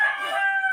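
A rooster crows once, close and clear, in a single drawn-out call at an early morning market where chickens and ducks are sold.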